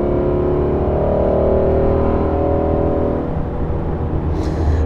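A Ford Shelby GT350 with a resonator delete, its exhaust droning loudly and steadily from inside the car as it accelerates, the tone easing slightly toward the end.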